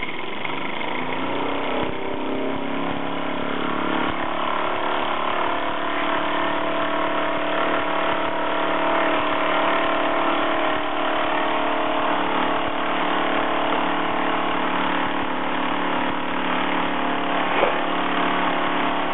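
A Luton Bowman PW203 model steam engine with a solid brass flywheel runs at a quickened pace, giving a steady, close mechanical chuffing drone that holds evenly throughout.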